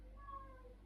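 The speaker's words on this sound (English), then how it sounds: "Cat outside." A single cat meows outdoors, one drawn-out call of under a second, heard faintly at a distance against a low steady background hum.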